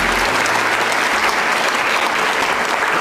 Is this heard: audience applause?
yes